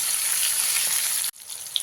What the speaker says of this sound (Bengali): এবারে ওই তেলেই ফুলকপিগুলো ভেজে নেব